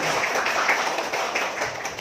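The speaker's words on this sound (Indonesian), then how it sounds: "Tepuk tangan dulu untuk bapak ibu semua." Steady crowd clapping fills the clip, dense and continuous with no pauses, fairly close.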